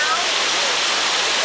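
A large waterfall in an animal enclosure at Bush Gardens on Hilton Head, heard as a loud, steady roar of rushing water that fills the whole brief moment.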